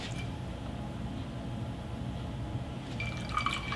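Perrier sparkling water is splashed into a honey and lemonade cocktail, a soft pour of liquid over a quiet background that brightens into a short fizzy splash near the end.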